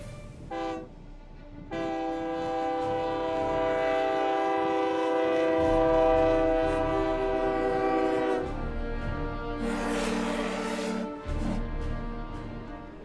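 A Union Pacific Big Boy steam locomotive rolls into Evanston, its loud sustained horn blaring for several seconds, then a second shorter blast cutting through the low rumble of the train.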